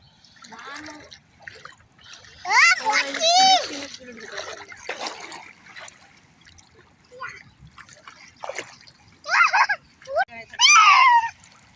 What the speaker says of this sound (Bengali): জল আমার দিকে ছেটাস না, ওদিকে ছেটা